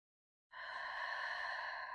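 A slow, steady breath exhaled during a yoga stretch, starting after a short silence and continuing soft and even for about a second and a half, close and alone.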